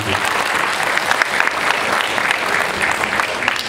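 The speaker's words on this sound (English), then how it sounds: "we should give a big round of applause to Malaika for being here." Applause from the audience at a celebrity awards event fills the room as steady, dense clapping that holds evenly throughout without any talk over it.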